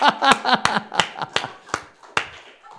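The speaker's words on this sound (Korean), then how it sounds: "자, 박수 치면서" People in a healing-counseling lecture clap sharply and irregularly as they laugh on purpose. About eight crisp hand claps ring out close by, mixed with voiced laughter.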